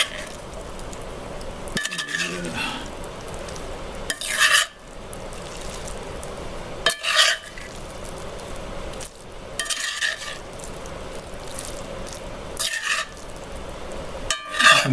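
Cooked noodles stirred in a sizzling skillet with beef and broccoli, a steady fry hiss broken every few seconds by loud scraping, clinking spatula strokes against the pan.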